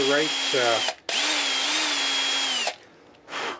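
A power drill bores a hole in maple wood, its motor whining high and close in two long runs separated by a brief stop, with the bit's tone shifting as it cuts and a short spin-up at the end.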